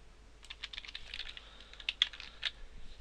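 Rapid bursts of typing on a computer keyboard while coding a Unity 3D game tutorial, close and fairly quiet, with uneven clusters of key clicks and a few sharper strokes near the end.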